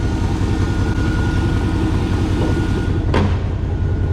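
A turbocharged GMC Yukon XL engine idles steadily and loud, a continuous low rumble with a brief sharp burst near the end; no one speaks.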